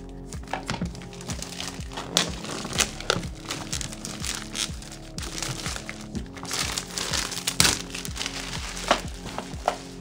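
Packaging crinkles and crackles while a keyboard is unpacked, irregular sharp rustles and snaps close up, with no voice over them.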